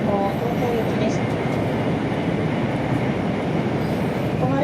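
Inside a Yamabiko Shinkansen bound for Tokyo, wrapped in Magical Dream Shinkansen livery: a continuous, close, even roar of the high-speed train running, with faint tonal chime-like notes at the start and end.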